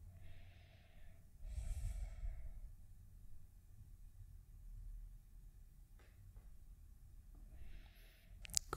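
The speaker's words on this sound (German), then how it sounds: "Atme tiefer in das Becken." Slow, deep breaths during a yoga exercise, with a couple of audible breaths through the nose near the start and again at the end, quiet and close, separated by long near-silent gaps.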